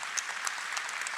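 Applause for a deputy mayor for public works at a residents' meeting in Le Touquet: a steady patter of many hands clapping with no gaps, moderately loud and without voices.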